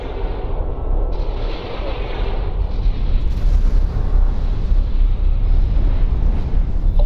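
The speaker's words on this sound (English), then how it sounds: "Explosion imminent." A dense, continuous rumbling roar of explosions from space combat in X4: Foundations with the Star Wars Interworlds mod, loud and sustained throughout with heavy low-end booming and no talk.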